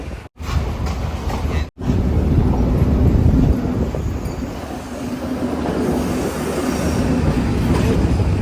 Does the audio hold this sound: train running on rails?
yes